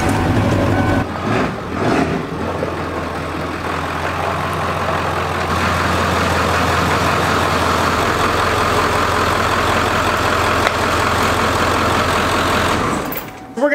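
A truck engine turns over and settles into a steady, low, rumbling idle outdoors on a hot day, running loud and close for over ten seconds before cutting off, with faint talk early on.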